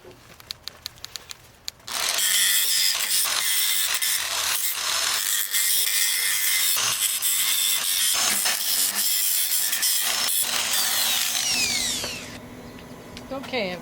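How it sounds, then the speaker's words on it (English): An angle grinder bites into a worn steel tailgate hinge on a 2002 Ford F-150, a loud sustained high-pitched roar lasting about ten seconds, preceded by a few sharp clicks and trailing off as the tool winds down. "we're going to grind this down, getting ready for welding"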